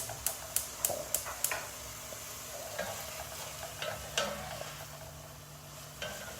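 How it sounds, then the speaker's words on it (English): Onion sautés in a pan with a soft continuous sizzle, punctuated by a rapid series of sharp utensil taps and clacks early on and a few more stirring knocks later, close and moderately loud. "Okay, I saute a little bit."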